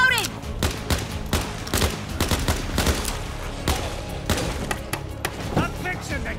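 Rapid bursts of MP5 submachine gun fire in Overkill's The Walking Dead, loud and close, with dense repeated shots across the clip under game effects.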